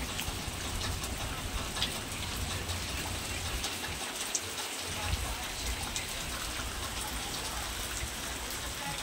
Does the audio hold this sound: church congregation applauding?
no